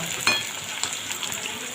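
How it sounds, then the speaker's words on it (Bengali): Fish frying in oil, nearly done: a steady, fairly quiet crackling sizzle with a few small sharp pops, heard close and without talk. "আমার মাছটা প্রায় ভাজা হয়ে এসেছে"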